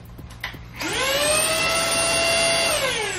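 A Xiaomi Jimmy JV51 cordless vacuum cleaner spins up after a few light clicks into a loud, close, high-pitched whine that rises in pitch and then holds steady for a couple of seconds.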